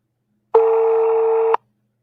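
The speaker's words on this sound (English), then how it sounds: "Okay, the phone is still ringing." Telephone ringing on an outgoing call, one steady ringback tone lasting about a second with a clean start and stop, surrounded by silence.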